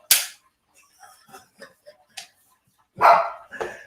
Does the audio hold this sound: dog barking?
yes